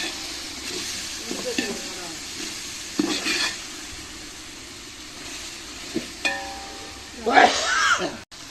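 Tomatoes for chicken biryani fry in a pot with a soft sizzle while they are stirred, with several louder scraping strokes and a brief clatter near the end.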